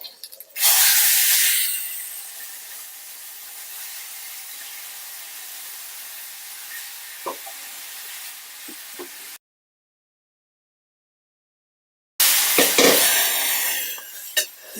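Sizzling hiss as dal is tipped into a hot tempering of oil and dried red chillies in a pan, loud bursts at the start and end with a quiet gap between, for a carissa and dal curry.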